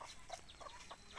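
A protective mother hen in the forest clucks in short, faint, repeated bursts, a quick run of soft clucks close by, with chicks about.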